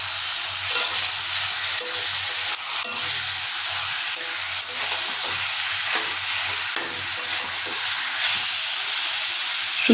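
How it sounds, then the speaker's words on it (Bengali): Chicken meat sizzles steadily in a hot wok while a spatula stirs it, a dense continuous frying hiss with soft scraping and stirring clatter throughout, close and fairly loud with no talk. "কড়াইতে আমরা মুরগির মাংস যোগ করে দিচ্ছি। এবার একটা খুন্তিতে সুন্দরভাবে এটাকে নেড়ে নেব।"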